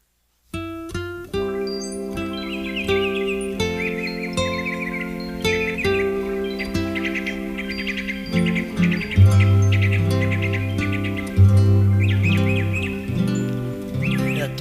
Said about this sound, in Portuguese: Até os passarinhos estão alegres, né?